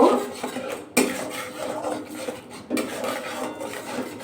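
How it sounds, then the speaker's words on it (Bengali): A spatula scraping and clanking through ash gourd cooked with salt, turmeric, Kashmiri chili powder and a little sugar in a pan, two firm stirring strokes with rasping drags between them, no voices. "আবার কিন্তু নাড়াচাড়া করে নেব"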